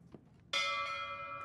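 A single bell struck in the horror video game Layers of Fear 2 rings out loud and close, its bright metallic tone sustaining and slowly decaying over a faint background.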